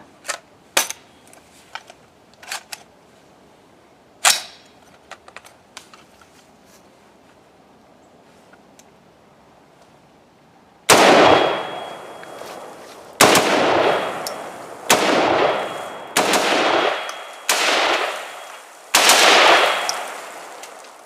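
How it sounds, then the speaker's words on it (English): A Brownells BRN-10 AR-style rifle fired in a bump-fire attempt that fails to cycle, with scattered sharp clicks early on and then several loud, close, separate reports about a second apart. "I tried to bump fire it, and it didn't cycle."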